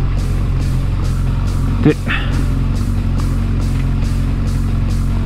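A Honda CB350F motorcycle engine running while ridden, a steady low drone with wind rush, under someone talking; one brief sharper burst near the middle.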